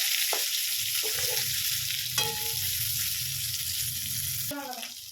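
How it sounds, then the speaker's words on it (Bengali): Steady hissing sizzle of fish frying in a hot pan, continuous throughout, with a few short clinks and scrapes of stirring. "এই যে মাছগুলো ভাজা হচ্ছে"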